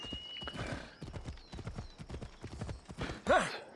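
Phobos the horse from Assassin's Creed Odyssey, with hooves clip-clopping under steady footfalls and a short whinny near the end.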